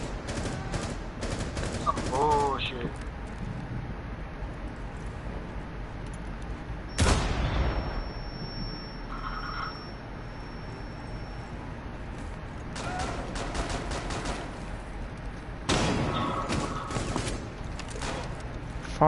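Gunfire in a PS4 shooter game, with rapid bursts of automatic fire and sharp single shots coming in clusters at the start, middle and end, loud and close over background game noise.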